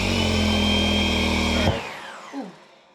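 A Ryobi stick vacuum, damaged after hitting something under a couch, whines with a loud harsh motor drone, then cuts off abruptly and spins down with a brief rattling clunk.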